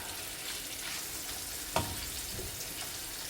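Fish pieces sizzling in hot oil in a pan right after being turned over, a continuous close frying hiss with a brief louder crackle midway, no voices.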